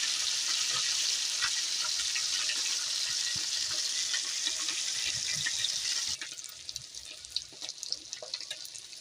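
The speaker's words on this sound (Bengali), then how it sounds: "মাছগুলো ভালো করে ভেজে নিতে হবে" Pieces of kalbaus fish from a pond sizzle in hot oil in a pan, a steady bright hiss that softens near the end as the pan quiets, close and without talk.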